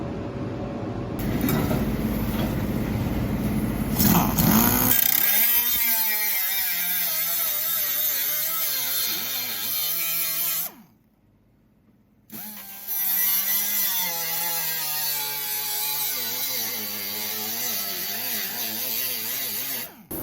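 A power tool cuts into the steel floor pan of a 1962 Plymouth with a loud, harsh whine that rises and falls as it bites, stops briefly, then resumes grinding close by.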